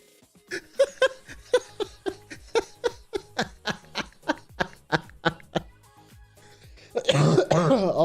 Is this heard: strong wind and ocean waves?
no